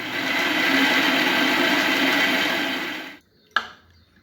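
Mixer grinder jar whirring loudly and steadily as it grinds soaked dal, running for about three seconds before cutting off, followed by a single sharp clink of the jar.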